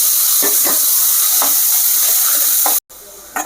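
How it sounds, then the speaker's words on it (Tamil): Cumin, onion and tomato are sautéed in hot oil for a capsicum gravy. A loud, steady sizzle and hiss runs throughout, with a few spoon scrapes and stirring strokes close by. The sound cuts out briefly near the end, then resumes more quietly. "சீரகம் பொறிஞ்சோடனே இந்த வெங்காயம் வெங்காயம் தக்காளிலாம் போட்டு வதக்கிக்கலாம்"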